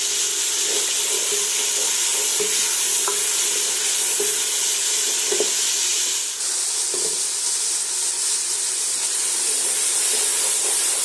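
Chopped green chillies are stirred into a pan and fry with a steady, loud sizzle and hiss. Occasional scrapes and clinks of the spoon sound close by, and nobody speaks.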